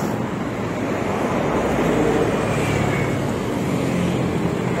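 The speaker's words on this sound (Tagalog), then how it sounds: "Sobrang lakas ng daloy ng tubig." Strong floodwater current surging during Typhoon Carina and the southwest monsoon in Marikina, a steady loud rushing roar with wind buffeting, continuous throughout.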